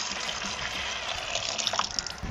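Paint being poured into a container, a steady wet liquid pour heard close and alone.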